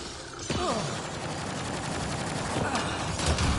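Indra rifle fire in Mass Effect: Andromeda comes in rapid, crackling bursts over battle noise, with quick volleys near the start and again toward the end, and a voice talks over it.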